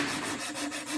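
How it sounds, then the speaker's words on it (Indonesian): Sandpaper rubs back and forth against the wooden underside of a large kite part in quick, rhythmic rasping strokes, close and alone. "Nah, itu bagian bawah kita amplas juga ya."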